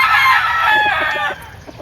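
A rooster crows loudly and close by in one long, strained call, followed by a few soft clucks from chickens nearby, with no talking.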